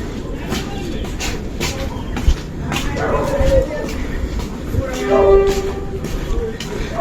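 A train pulls into Bautpur station, its rumble and rail noise rising and falling alongside a brief horn-like tone, with a person talking over the sound throughout.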